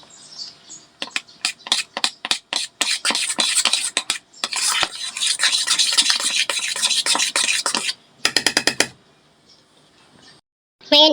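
Spoon scraping and stirring through a thick mango ice cream mixture in a bowl, a quick run of rhythmic clinks and smears, loud and close, with short pauses between bursts.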